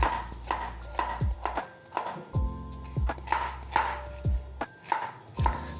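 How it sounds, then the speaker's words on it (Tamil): Beetroot and carrots chopped into thin rough pieces on a board, a knife striking about a dozen times in an uneven rhythm, close and crisp, with no talk. "அதனால் தின் சைஸஸாக கொஞ்சம் ரஃப்பாக வந்து சாப் பண்ணி எடுத்துக்கோங்க."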